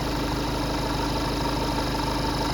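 A 2017 Seat Leon engine runs steadily just after a new timing belt was fitted, a loud, close, even idle drone with a low mechanical hum and no break or talk.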